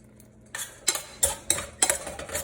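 A spoon mixes a spinach mixture with fresh lemon juice in a bowl, making five or six distinct scraping and clinking strokes at an even pace, close and clear with no talking.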